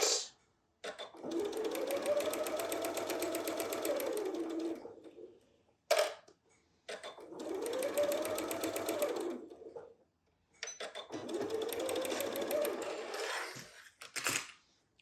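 A sewing machine stitches a fabric makeup bag in three long, steady runs of rapid mechanical clatter, separated by short pauses and brief clicks as the fabric is repositioned.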